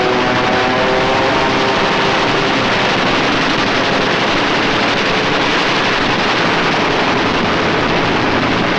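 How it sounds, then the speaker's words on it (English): Aircraft strafing German army positions with machine guns during the 1943 battle of Russia, a dense, continuous roar of engines and rapid gunfire filling the whole stretch, loud and unbroken, with no talking. "Now it was for the Germans to learn the terrors of strafing."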